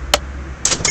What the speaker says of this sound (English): Hear that cha-ching?